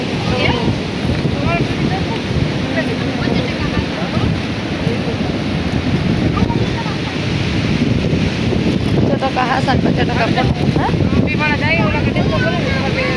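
Continuous roar of sea surf breaking on a shore at Loej, heavy wind buffeting the microphone, with voices talking over it.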